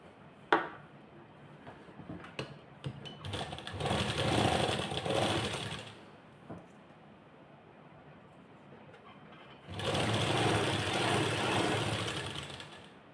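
A sewing machine joins a sleeve to the shoulder of a garment in two steady whirring runs of stitching. Quiet handling sounds fill the gap between the runs, and no one speaks.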